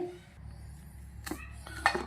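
A spoon clinks against a bowl while flour, salt and a little oil are mixed into dough for garlic chilli momos, with two brief, faint metallic taps over a quiet background.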